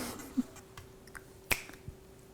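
A single person snapping fingers in a home kitchen, a few sharp, isolated clicks spaced irregularly, with one especially crisp snap near the middle against a quiet room.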